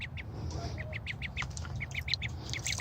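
A pet duck quacks in a quick series of short, fairly close calls, with a faint background murmur beneath and no talking.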